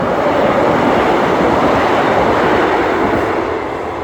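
A train rumbles past along the Dawlish sea wall railway, a loud, close, continuous roar with steady wheel noise that eases slightly at the end, heard alone without talk.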